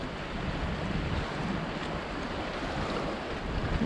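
Steady broadband wash of ocean waves against a breakwater at Coloane, Macau, continuous and fairly close, with some wind buffeting the microphone throughout and no voices.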